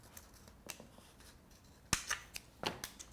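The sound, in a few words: scissors cutting a plastic bottle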